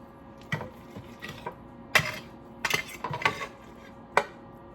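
A fork and knife clink and scrape against a dish while cutting into baked pasta loaded with cheese, giving several sharp, close metallic taps spaced irregularly over a quiet background.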